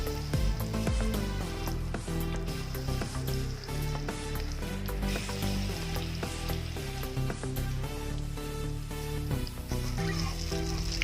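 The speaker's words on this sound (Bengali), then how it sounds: "তেল গরম হয়ে গেছে, এবার বড়াগুলো ভেজে নেব" Malabar spinach leaf and lentil fritters fry in hot oil in a kadai, a continuous close sizzle with scattered crackles over a faint steady tonal background, with no talking.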